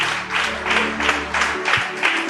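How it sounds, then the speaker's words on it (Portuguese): A church congregation claps together in a sustained round of applause, rising and falling in dense waves of hand claps with no talking over it. "Damos um aplauso para Jesus."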